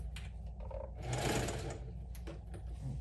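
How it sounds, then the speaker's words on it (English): A sewing machine runs through quilted fabric for a crossbody handbag, a close steady mechanical whirr that swells to a faster burst of stitching mid-way, then slows to a few short runs. "let me sew this part first"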